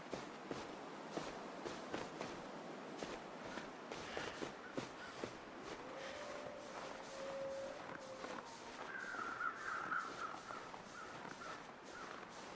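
Crows cawing at a distance in the video game The Long Dark, a few harsh calls over steady crunching footsteps on snow and a faint wind-like hiss, with no talk.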